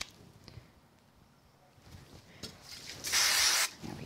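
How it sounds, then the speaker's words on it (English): Spray glue sprayed onto the back of card pieces during card crafting: one short, bright hissing burst of about half a second, close and fairly loud, after some quiet handling rustles. "So let me just use a little bit of spray glue on the back of these."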